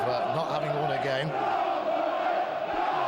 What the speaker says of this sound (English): Crowd getting behind them.